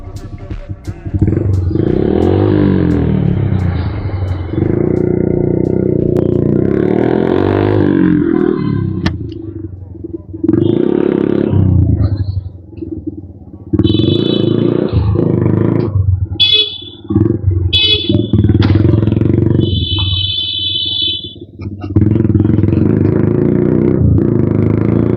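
A Suzuki Gixxer motorcycle with a newly fitted aftermarket exhaust revs loudly and rides close by, with its engine roar rising and falling in repeated bursts through most of the stretch.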